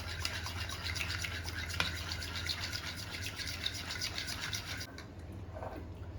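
Sugar and milk are stirred together in a bowl for a sweet dosa batter, giving a quiet, continuous scraping swish with soft rhythmic strokes, one sharper knock partway, then a quieter stretch near the end.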